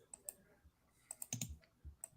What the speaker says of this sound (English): Sorry, a lot of clicking right now.